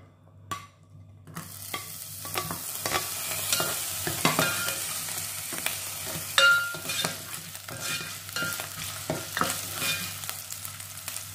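Half an onion sizzling in a thin drizzle of oil in a pan, steady crackling frying noise with repeated stirring scrapes and clinks, close and moderately loud, for making a dish of salted dried tilapia.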